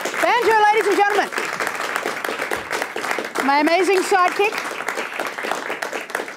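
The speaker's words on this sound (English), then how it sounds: "Please keep that applause going" An audience at a live comedy show claps steadily and loudly throughout, while a host speaks and laughs over the sustained applause.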